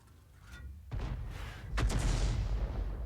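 A tank cannon round goes off in a World War II tank battle game, a muffled boom with a second heavier blast rolling into a low, sustained rumble, moderately distant and loud.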